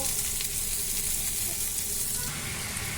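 Cauliflower and potato pieces sizzle in a pan with added ground spices: coriander, cumin, ginger, turmeric and chili powder. A continuous close frying hiss carries light stirring sounds.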